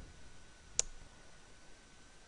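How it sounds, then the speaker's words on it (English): A single sharp, faint computer mouse click in an otherwise quiet room with low background hiss. "click download here and click download again."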